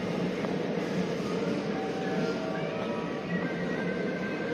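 Inside a moving commuter train near Sannomiya, a steady low rumble and rolling hum carry on evenly, with faint tonal whines above.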